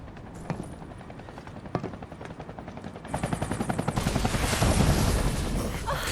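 A helicopter in Final Fantasy VII Remake starts with scattered thumps, then grows into a loud, fast rotor chop that swells and stays close, with no talk over it.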